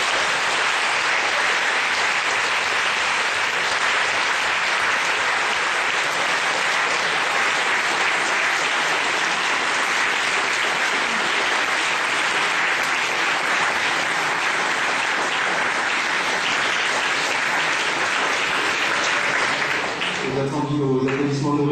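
A lecture-hall audience gives sustained, dense applause after a conference debate on Islamic-Christian dialogue. The clapping stays steady throughout, and a voice starts speaking as it fades at the end.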